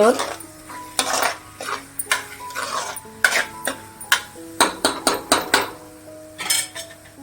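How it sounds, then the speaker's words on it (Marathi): A spatula stirs and scrapes a pan as spicy Kolhapuri misal masala with turmeric, chili powder, Kashmiri chili, garam masala and onion-garlic masala is sautéed in oil, giving repeated close metallic clinks and scrapes in an uneven rhythm. "मी आता हे चांगलं मसाला परतून घ्यायचे तेल सुटेस"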